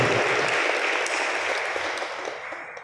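Steady applause from a crowd at a Tamil Catholic Mass in a church, a dense clatter of clapping that slowly tapers off.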